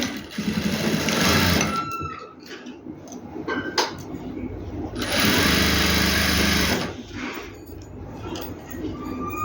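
An electric sewing machine stitches a two-year-old baby boy's dress, whirring in loud bursts of a few seconds with quieter pauses and clicks between, close up, with a voice speaking at times.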